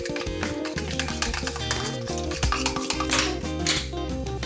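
A spoon stirs mayonnaise and salt together in a bowl, giving soft, repeated wet scraping and tapping sounds at close range with a steady, busy rhythm.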